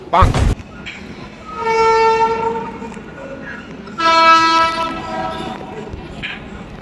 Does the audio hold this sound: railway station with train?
yes